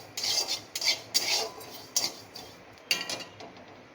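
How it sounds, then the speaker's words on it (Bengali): Black cumin dry-roasting in a hot wok, stirred with a metal spoon that scrapes and clinks in short repeated bursts, close and fairly quiet. "কালো জিরেটা এখন আমি একটু ভেজে নেব"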